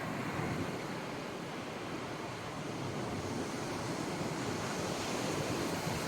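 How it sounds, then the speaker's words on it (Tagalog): Ocean surf at Nacpan Beach in El Nido rolls in steadily, a dense continuous wash of breaking waves with some wind rumble on the microphone, no voices. "Ang ganda nung alon"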